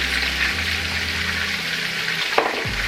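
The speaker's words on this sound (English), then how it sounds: "we're going to add some water here" Water pours into a pan of chicken broth seasoned with white pepper for a mushroom gravy, a steady hissing, bubbling sizzle that stays loud and close throughout, with no talking.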